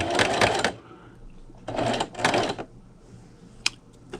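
A sewing machine stitches a quilt ruler holder in two short runs of whirring, separated by a pause, followed by faint clicks as the presser foot is handled.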